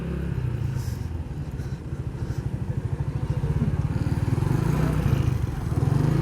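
A motorcycle with a broken rear light rides along a road in Islamabad, its engine giving a loud, steady rapid putter with a faint rising throttle, heard close up from on the bike.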